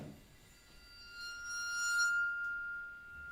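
A bright metallic crotale rings with a clear, sustained high pitch and shimmering overtones, close and quiet, slowly swelling then fading.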